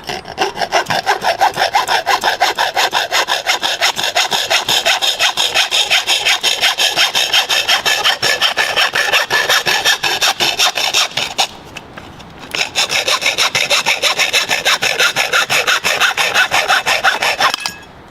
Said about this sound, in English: take this square tubing and cut my mark